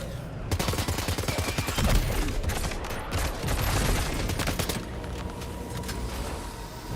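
Rapid gunfire bursts in a shooter video game, heavy automatic fire crackling in dense volleys for most of the stretch, loud and close before tapering slightly near the end.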